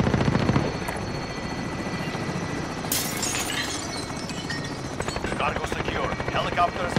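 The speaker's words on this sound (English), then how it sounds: "Helicopters exiting the AO." Steady helicopter rotor thumping with sharp crashing and breaking noises mixed in, loud and busy throughout, from the video game Call of Duty: Modern Warfare.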